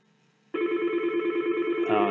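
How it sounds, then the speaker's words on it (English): Telephone ringing for an inbound call during a phone system and CRM integration demo: a steady electronic ring tone starts abruptly about halfway in and holds at even loudness, close and clear, with no talking over it. "I'm going to show an inbound call"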